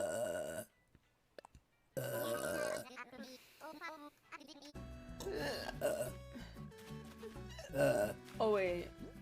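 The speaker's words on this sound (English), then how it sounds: "You know I burp when I'm hungry." A woman lets out several long, croaky burps close up, one after another, with short pauses between them.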